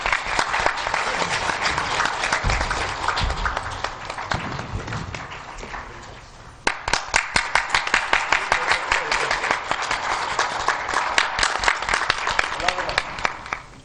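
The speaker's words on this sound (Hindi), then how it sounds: "ताली आपकी बजनी चाहिए बढ़िया वाली।" An audience at a yoga session in Nashik claps steadily, dense at first with a voice over it, then breaking into loud, rhythmic unison clapping that continues to the end.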